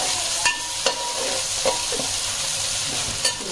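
Ginger garlic paste fries with onions in a pan for a country chicken curry, giving a steady close sizzle with a few sharp scrape-and-stir clicks scattered through it.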